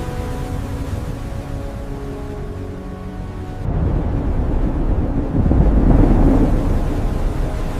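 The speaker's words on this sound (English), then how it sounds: "The storm's coming." Low rumbling thunder from an approaching storm rolls in under heavy wind buffeting the mic, swelling louder about halfway through and peaking near the end, with no talking.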